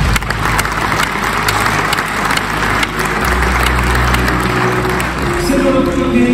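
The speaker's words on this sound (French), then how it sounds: "Applaudissements pour Thomas Briand, qui veut plus d'inclusion dans le sport et la société." Audience applause at an onstage presentation of Vendée Globe 2024 sailing candidates at UNESCO, a dense, loud, sustained clapping from a large crowd with a little background noise.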